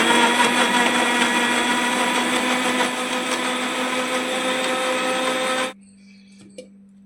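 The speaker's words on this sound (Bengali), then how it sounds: "এবারে আমি এই সমস্তটা ব্লেন্ড করে" Blender whirring steadily as it blends oats with cold milk for a smoothie, a loud continuous motor drone lasting several seconds before it cuts off abruptly into near silence.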